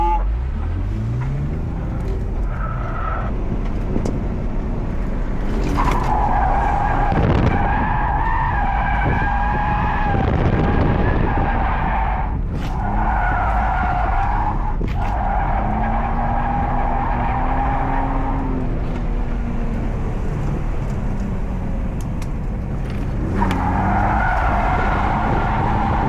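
A car drifting on a track, its tires skidding and squealing loudly in long sustained bursts over a steady engine roar, with brief breaks between slides and no talking.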